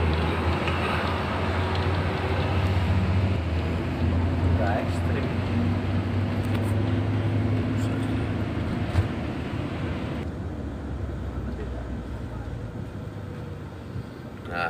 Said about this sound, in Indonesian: kan ini bunyinya kita pakai persneling pendek, persneling kecil tuh